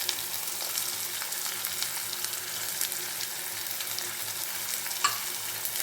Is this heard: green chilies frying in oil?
yes